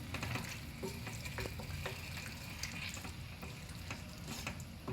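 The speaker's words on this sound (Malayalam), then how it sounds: "ഇനി ഇതിലേക്ക് ഒരു 1/2 ടീസ്പൂൺ ഉപ്പ് ചേർത്ത് ഹൈ ഫ്ലെയിമിൽ ഒരു 1-2 മിനിറ്റ് ഇളക്കണം." Boneless pepper chicken, salted, sizzles quietly in a pan over a high flame while a spoon stirs it, giving a soft continuous frying hiss broken by faint scraping taps.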